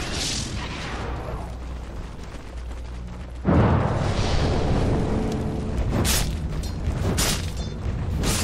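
A tower is destroyed in a Dota 2 match, a sudden heavy boom followed by rolling crumbling rumble, with clicks and bursts of battle noise after it.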